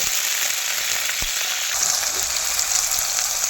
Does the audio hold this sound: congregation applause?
no